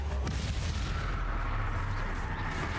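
A Confringo blasting spell cast in Hogwarts Legacy bursts as a dense, continuous barrage of booming, crackling blasts with heavy low rumble, loud and close, with no speech.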